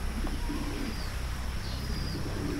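Pigeons coo repeatedly nearby at midday feeding time, soft low throaty calls rising over a steady outdoor hum, with a few faint chirps mixed in and no speech.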